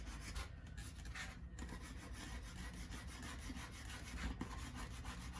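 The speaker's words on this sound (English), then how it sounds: "You can use the files to help pull the wood up." Metal files rasp hard against a wood surface to roughen and texture it for a distressed look, giving a dense, continuous scraping close by with no talk.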